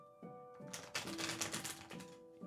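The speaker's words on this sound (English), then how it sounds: "So we're ready for a general, because, man, I've been shuffling. Let me do a little bit more" A deck of tarot cards being shuffled: a rapid run of crisp papery clicks and flutters for about two seconds, with a faint steady hum and tone in the background.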